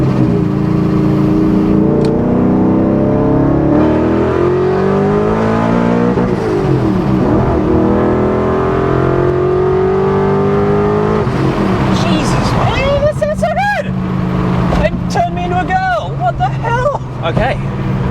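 A supercharged V8 engine in an E39 BMW M5 revs hard and climbs through the gears, loud with supercharger noise, with people talking over the roar.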